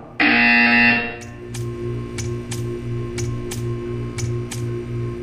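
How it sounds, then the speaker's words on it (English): A loud electronic buzzer tone from the video game Portal 2 sounds for about a second, followed by a series of sharp, evenly spaced ticking clicks over a low pulsing hum. "You will hear a buzzer"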